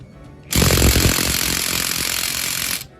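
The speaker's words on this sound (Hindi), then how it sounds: "ये ड्रिल की मदद से हमने इसको अच्छे से कस लिया है।" A power drill or impact driver tightens a nut on a motorcycle engine during kick shaft timing work on a Honda CD 70 type bike, a loud, close, continuous rattling whir that starts abruptly and stops after about two seconds.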